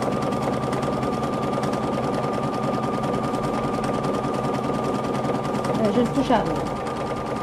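A Husqvarna Topaz 30 sewing machine sews a buttonhole automatically, with a steady close rapid hum and needle clatter running throughout while someone talks over it.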